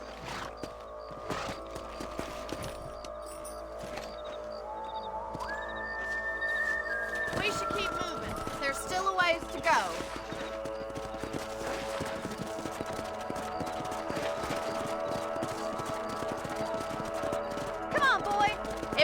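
Horses' hooves clip-clopping steadily in the Red Dead Redemption video game, a continuous rhythmic trot under game music and a man's spoken line.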